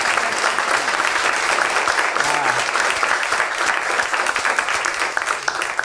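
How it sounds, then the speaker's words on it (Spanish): An audience at a live comedy show claps in sustained, dense applause, a steady crackling wash of many hands from start to finish. "Un fuerte aplauso para ustedes."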